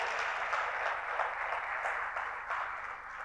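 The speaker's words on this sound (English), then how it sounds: "can we have a huge round of applause for Dr." An audience applauds Dr. PK Hazra at a premiere event, a steady, dense wash of many hands clapping that stays fairly even and full throughout, with no voices over it.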